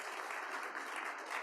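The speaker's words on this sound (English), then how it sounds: "Joni Collier a round of applause." A round of applause from a Kiwanis club meeting audience, brief but dense and steady clapping from a modest room of people.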